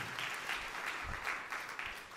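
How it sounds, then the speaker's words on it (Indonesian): A church congregation applauds during a sermon, steady full-room clapping that holds for about two seconds with no talk over it. "Tepuk tangan yang meriah untuk kemuliaan nama Tuhan."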